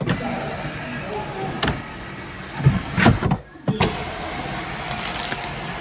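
Power window on a 2024 Maruti Suzuki Grand Vitara hybrid in a showroom, with a brief motor hum and a couple of soft clunks as the glass closes, heard close against a steady indoor background.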